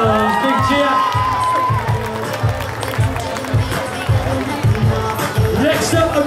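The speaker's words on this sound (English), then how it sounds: "Big cheer!" A crowd cheers and whoops for a girls' football team called up onto a stage at a holiday-camp presentation, with loud, continuous shouting over music and an announcer's voice.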